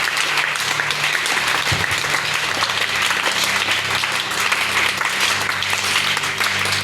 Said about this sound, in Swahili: Ongeza makofi Yesu